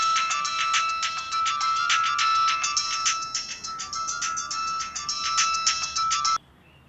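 A phone ringtone from an incoming call plays as a loud, repeating electronic melody for about six seconds, then cuts off abruptly, with no talking over it.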